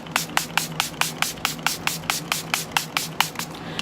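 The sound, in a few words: setting spray misting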